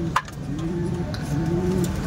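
Pigeons coo in a steady, low, rolling drone close by, with the calls overlapping throughout and one short click near the start.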